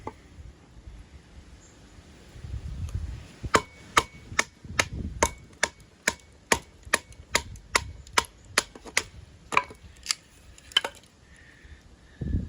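A knife chops into very hard, gnarly wood, giving a steady run of about fifteen sharp, evenly spaced strikes that ring out close and loud, with a low rustle of handling before them.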